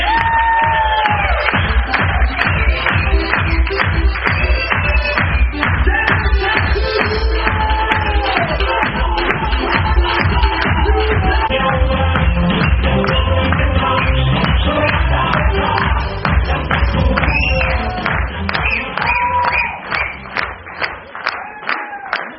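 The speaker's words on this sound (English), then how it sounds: "please put a huge round of applause" An indoor audience gives sustained, loud clapping with some cheering to welcome a speaker on stage; it keeps a dense, even rhythm before thinning out at the end.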